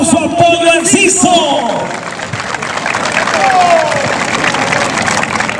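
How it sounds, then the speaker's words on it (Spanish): Crowd applause and cheering at a jaripeo in San Jacinto, Jalisco, clapping spread through an open-air audience with whistles and music-like tones over it, fairly loud throughout. "Bríndele fuerte el aplauso al Pollo Enciso"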